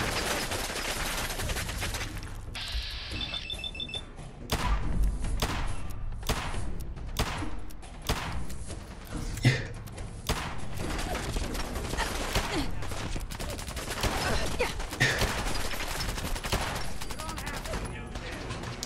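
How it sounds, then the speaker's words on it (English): Automatic gunfire from an overpowered machine gun in Fallout 4, with repeated sharp bursts and heavy thuds loud over a dense game soundtrack, and a voice talking intermittently underneath. "The OP machine guns again!"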